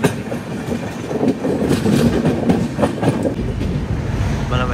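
Cocanada SF Express pulling into Kakinada Town Junction, recorded from aboard: a loud steady rumble with rhythmic wheel clatter and a brief metallic squeal near the end.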